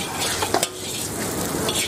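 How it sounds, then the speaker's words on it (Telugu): Chicken frying in a pan for egg fried rice, a loud, continuous close sizzle with stirring scrapes and a brief clatter of utensil against the pan, no talking. "చికెన్ ఫ్రై చేసుకోవాలి ఇలా."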